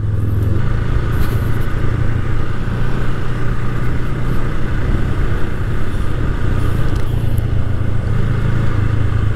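Motorcycle riding up Naguilan Road toward Baguio City, a loud continuous engine drone with a low steady hum and road rumble throughout, close and unbroken.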